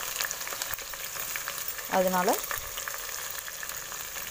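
Onions and curry leaves fry in a pan for a gravy, giving a steady close sizzle throughout, with a brief voice heard partway through.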